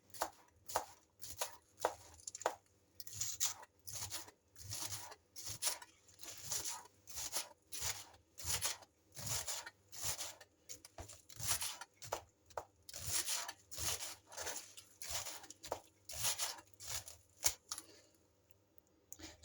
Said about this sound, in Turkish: şimdi taze soğanları ince ince doğruyorum